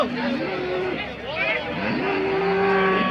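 Cows moo at a busy cattle market near KG Temple, long drawn-out calls rising over crowd babble and nearby talk.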